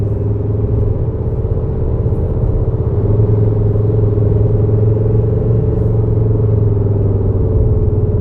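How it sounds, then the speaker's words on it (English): A big V8 Mercedes G63 runs alone near the microphone, a deep steady engine drone holding a low rumbling idle-to-rev tone with a slight pitch rise midway and no talk. "First sound we've got is the G63, big old V8 German Mercedes."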